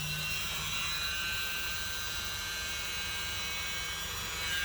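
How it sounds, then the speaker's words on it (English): A leaf blower runs steadily close by, a loud, continuous airy roar with a whining edge that holds level throughout. "I'm going to try my leaf blower now"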